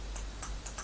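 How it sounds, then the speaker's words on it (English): A few quick computer keyboard keypresses, light clicky taps close by, four or so in under a second. "on my keyboard I'm going to hit Control-0"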